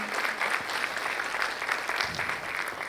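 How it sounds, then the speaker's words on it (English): Crowd applause at a TEDx youth event, a steady wash of clapping from a mid-sized audience, moderately loud and even throughout, with no talk over it. "A huge round of applause for your creativity, commitment, and confidence."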